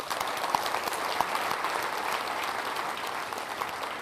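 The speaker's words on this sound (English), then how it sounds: "Give him a round of applause." A keynote audience breaks into lively applause, dense clapping with a few sharp individual claps standing out, holding at a steady, moderately loud level for several seconds without speech.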